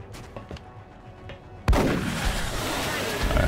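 Sniper gunfire in the XCOM Long War strategy game: one loud, sharp shot cracks out suddenly after a quieter stretch, then a long, dense rumbling tail.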